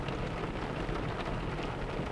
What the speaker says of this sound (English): Pretty nasty summer storm here.